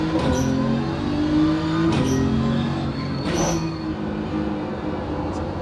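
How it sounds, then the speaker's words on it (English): In the iRacing driving simulator, a race car's engine drones in steady tones, broken by a few short bursts as gears shift and the brakes come on. "love the gear shifts. Oh, I love how you can hear the brakes."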